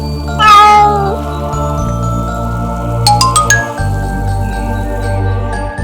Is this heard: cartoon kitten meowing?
yes